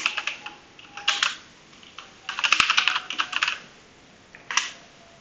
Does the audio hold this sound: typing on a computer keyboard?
yes